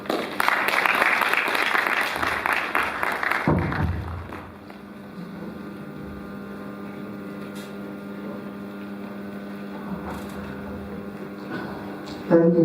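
Audience clapping at a college congregation ceremony, a loud burst of applause for about four seconds that fades out, followed by a quieter room with a low hum and brief voices.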